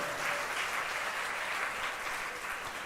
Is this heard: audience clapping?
yes